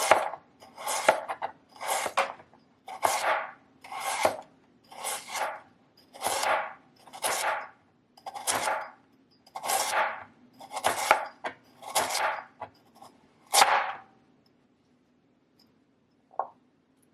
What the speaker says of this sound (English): I'm just going to use my crinkle cutter just to make them look fancy